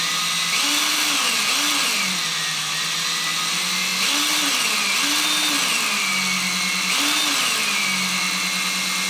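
A power tool spins 26 gauge wire for a fused Clapton coil, its motor whining in repeated rising and falling bursts that stay loud and close throughout.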